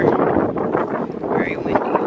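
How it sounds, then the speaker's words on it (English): Gusty wind buffets the microphone in a continuous rough rumble, rising and falling slightly throughout. "And it is windy out here."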